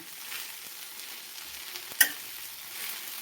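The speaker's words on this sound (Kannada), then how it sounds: "ಈ ಥರ ನಾನು ನಿಧಾನಕ್ಕೆ ಬೆಂಡೆಕಾಯಿ ಹುರ್ಕೊತೀನಿ." Okra is being stir-fried slowly in a pan, giving a soft continuous sizzle and hiss. A single sharp utensil clink is heard midway, and no one speaks.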